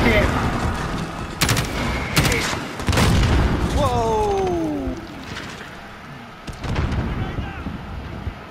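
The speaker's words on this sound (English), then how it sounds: "Whoever keeps firing that bloody rocket." Rocket launcher fire and explosions in the Modern Warfare video game: several loud, sharp blasts and booms spaced across the scene, with a whistling descending streak in the middle and a later boom, amid dense battle noise.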